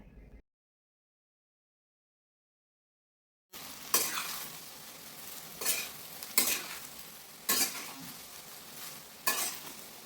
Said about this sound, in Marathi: आता अर्धा कांदा जो शिल्लक राहिला होता तो या तेलामध्ये मी भाजायला घातला